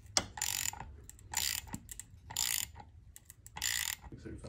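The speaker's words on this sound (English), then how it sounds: "We're just gonna tighten all the clamps up one more time and then give it a test start." Hose clamps on front-mount intercooler piping in a B7 Audi A4 are tightened, with four separate bursts of hissy, clicky ratcheting spaced by short pauses, close and fairly quiet.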